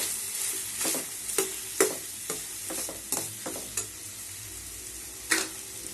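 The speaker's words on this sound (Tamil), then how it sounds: "தேங்காவே இது கூடயே சேர்த்து ஒரு 2 நிமிஷம் வதக்கிக்கிங்க." Coconut and fish curry masala being sautéed in a pan for a fish kulambu, with a spoon scraping and tapping the pan in irregular strokes over a low, steady sizzle; close and moderately quiet, no talk.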